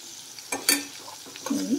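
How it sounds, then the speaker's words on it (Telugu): Bottle gourd curry fries in a pan with cumin and coriander powder, giving a few brief stirring scrapes and soft sizzling bursts close by. "బాగా ఫ్రై చేసుకోవాలి."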